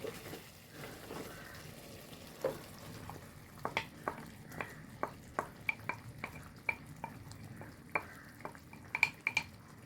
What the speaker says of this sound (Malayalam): ചക്കക്കുരുവിൻ്റെ മസാലേൻ്റെ വെള്ളമൊക്കെ വറ്റിക്കുന്നത്